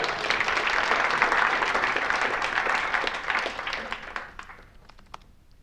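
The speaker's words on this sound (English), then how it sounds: "Everyone give a round of applause to everyone who helped me out on that one" A room of attendees applauds during a live improvised data analysis session, steady dense clapping that holds for several seconds and then tapers off into a few scattered claps.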